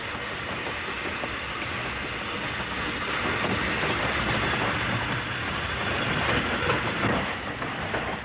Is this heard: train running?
yes